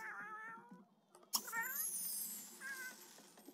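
A cat in The Sims 3 meows several times, clear drawn-out harmonic mews at the start and again midway, with a sharp click and quieter game ambience between.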